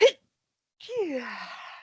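A single short, sharp sneeze-like burst, followed after a pause by a voiced, falling vocal sound, fairly close and moderately loud.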